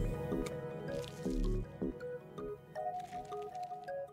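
Water poured into a chemical mixture in the Resident Evil game with Jill, wet dripping and squishing liquid effects over a low droning game background, moderately close.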